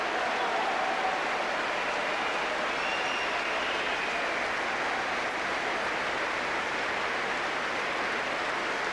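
Crowd cheering and applauding for the wind machine player of the European Union Youth Orchestra after a concert, a dense, sustained wash of clapping from a large hall audience with no pause.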